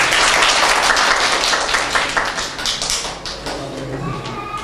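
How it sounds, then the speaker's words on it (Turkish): Children and adults clap together at a primary school report card ceremony in Siirt, a dense crowd of applause that runs steadily and starts to thin toward the end, with a few louder claps standing out near the front. "büyük bir alkış alalım Zeynep"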